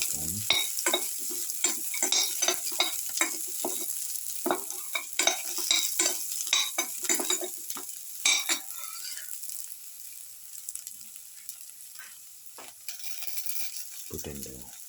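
Garlic sautés in a pan, crackling and sizzling under repeated scraping stirs of a utensil at close range, then the stirring stops and only a fainter hiss remains before a final clatter.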